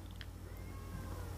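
A cat shut away in another room cries out once, a brief faint meow that rises from the distance over a steady low household hum.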